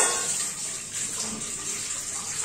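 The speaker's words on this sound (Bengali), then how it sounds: "দেখো বাসনগুলো ওখানে যে ধুয়ে দিচ্ছি" Dishes are washed under a running kitchen tap, with a steady, close rush of water pouring and splashing continuously and no voices.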